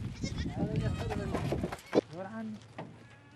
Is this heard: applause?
no